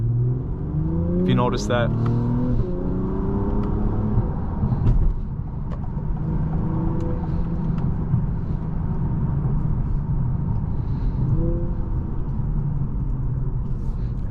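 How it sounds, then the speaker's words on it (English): A 2025 Acura TLX Type-S in Sport Plus mode auto-downshifts, heard from inside the cabin as a steady engine hum with a quick rising rev blip early on and another fainter one later, while a person talks. "And it'll also like downshift too, auto downshift in Sport Plus"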